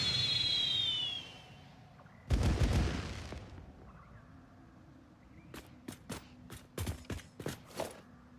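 Fireworks open with a high whistling launch, then one loud deep boom, followed by a quieter pause and a run of sharp scattered cracks and pops.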